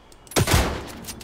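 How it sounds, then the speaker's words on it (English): A single loud, sharp report from the Scalpel, a Star Citizen sniper rifle that fires two bullets at once, with a punchy double-edged crack followed by a short fading tail. "It's a sniper rifle that shoots two bullets at once."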